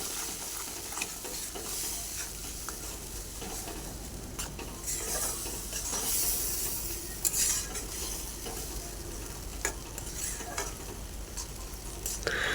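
Jackfruit pieces with salt and turmeric are stirred in a pan, the spoon scraping and clinking steadily over a constant soft sizzle, close and continuous.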